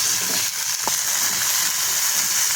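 A chopped medium onion and ginger-garlic paste sauté in a hot pan, giving a steady, close sizzling hiss with a brief clunk of stirring partway through and no talking.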